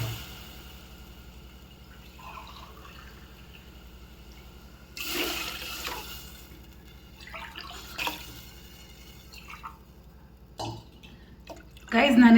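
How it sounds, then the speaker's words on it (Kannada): Glasses of water are poured into a masala mixture in a pan on a high gas flame, several separate splashing pours spread across the stretch with quiet gaps between them, ending in a louder sizzle and splash. "ನಾನಿಲ್ಲಿ 4 ಲೋಟ ನೀರು ಹಾಕಿದ್ದೀನಿ."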